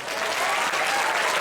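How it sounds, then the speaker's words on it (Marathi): Steady, dense applause from a seated audience at a talk on the Indian constitution, loud and continuous throughout with no pauses. "तुमच्या सगळ्यांच्यासाठी जोरात टाळ्या."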